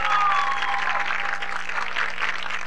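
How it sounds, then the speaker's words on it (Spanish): Studio audience applause on the Mexican TV quiz show ¿Quién sabe? around 2000, a steady wash of clapping that holds at one level for a few seconds with no voices over it. "ven para acá Bruno, aplausos para él y para sus muchachos."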